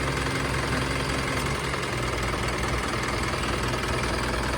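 Old Isuzu NMR130 truck diesel engine idling, a steady loud close rumble with a low knocking throb throughout, no voices.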